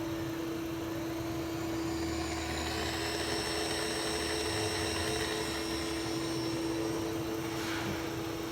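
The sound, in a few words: vertical milling machine running on automatic feed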